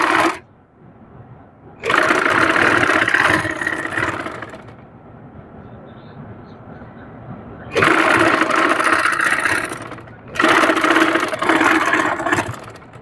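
A sewing machine stitches a cuff sleeve in three loud, buzzing bursts separated by quiet pauses, each run steady and close-up.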